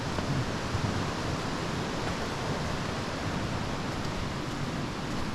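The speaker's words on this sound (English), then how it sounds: "I'm right next to the water and it flows day and night, creating a white noise" Steady rushing water flows without a break at Havasu Falls, a dense, even roar like a nearby stream, with no voices.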